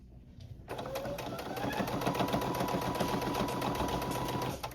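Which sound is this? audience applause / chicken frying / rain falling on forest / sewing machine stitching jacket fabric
sewing machine stitching jacket fabric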